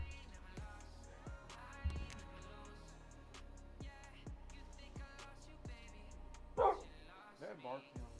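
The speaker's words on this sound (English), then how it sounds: "Is that barking, guys?" A dog barks in the background during a livestream, sounding faint and distant, with a few yips and whimpers.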